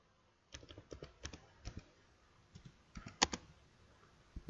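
Typing on a computer keyboard, with several short bursts of clicky keystrokes close to the mic and a few louder taps between brief pauses.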